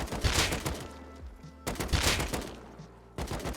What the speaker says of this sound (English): And AK stand spray is very, very important